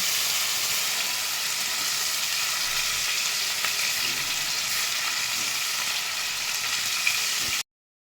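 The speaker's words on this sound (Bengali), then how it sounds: "আমি ওই তেলের মধ্যে কচুগুলোকে দিয়ে দিচ্ছি একটু কচুগুলো ভেজে তুলে নেব" Steady, dense sizzling of taro pieces frying in hot oil, continuous and close, with occasional faint clinks, before it cuts off abruptly near the end.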